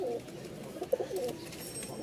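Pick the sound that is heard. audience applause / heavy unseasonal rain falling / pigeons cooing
pigeons cooing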